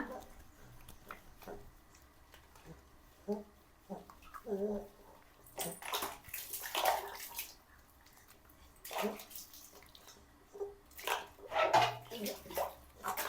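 Water splashes and pours in uneven bursts as a baby is bathed in a home bathroom, with quieter gaps and someone speaking between the louder sloshes.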